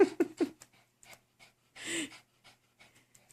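A pet dog named Molly pants in three quick, close breaths, then a longer huffing burst follows amid faint rustling, with no talk.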